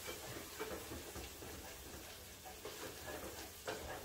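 Onions and bacon frying in a pan for collard greens, with a steady close sizzle and a few brief scraping bursts scattered through.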